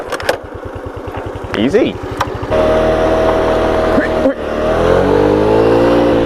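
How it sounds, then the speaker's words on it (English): A rented scooter on a mountain road in Andalusia is kickstarted. Its engine catches and revs steadily for several seconds, close and loud, while someone speaks briefly over it. "let's give this kickstart a go, see what happens."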